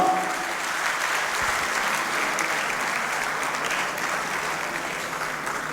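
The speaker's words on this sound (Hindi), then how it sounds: "एक बार जोरदार तालियों के साथ" Strong, continuous applause fills an auditorium at a Kumar Vishwas talk for Gopal Das Neeraj's birthday event, a dense unbroken wash of clapping from a large audience with no speech over it.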